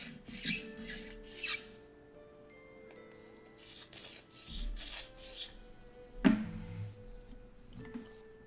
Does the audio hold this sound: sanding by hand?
yes